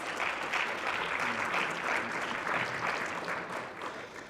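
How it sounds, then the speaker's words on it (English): Steady, dense applause from a conference audience at a summit on ending the HIV/AIDS epidemic, a full roomful clapping continuously for several seconds with slight swells, no voices over it. "Please give them a round of applause."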